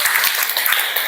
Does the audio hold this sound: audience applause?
yes